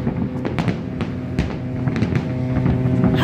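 New Year fireworks bursting over an island, a rapid, irregular string of sharp pops and crackles, loud and fairly close, over a steady low background hum.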